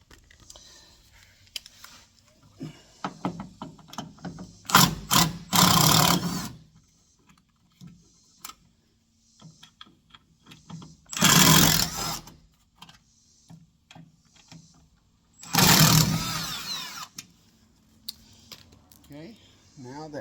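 A power tool drives out screws from the rear door of a Ford F-150 Supercab, giving three loud, close whirring bursts of one to two seconds each, separated by quiet clicks and small handling noises.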